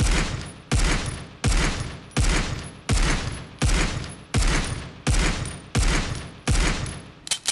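The SVD semi-automatic sniper rifle in Critical Ops fires eleven loud, close single shots at a steady, unhurried pace, each a sharp crack followed by a short decaying tail.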